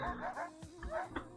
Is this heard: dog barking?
yes